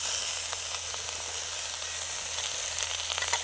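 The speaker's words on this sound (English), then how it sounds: "There we go, a nice sizzle." Venison burgers mixed with pork sausage fry alongside mushrooms in a pan while cooking off grid, giving a loud, steady, close sizzle with scattered crackles and no talking.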